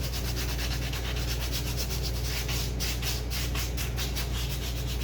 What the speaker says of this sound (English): I'm using 180 grit sandpaper.